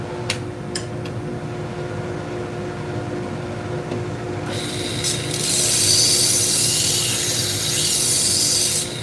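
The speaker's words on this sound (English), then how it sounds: "We're sharpening just a few kitchen knives tonight." Kitchen knives are sharpened on a motorized machine that hums steadily, with a few sharp ticks early on, then a bright, loud grinding hiss as a blade meets the abrasive.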